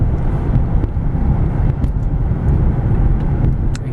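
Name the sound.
2004 Mercedes-Benz E320 Sport driving on road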